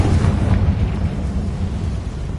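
A Confringo blasting spell bursts in a tomb in the Hogwarts Legacy video game, a heavy rumbling explosion that starts loud and rolls on with low crackling debris, no voices over it.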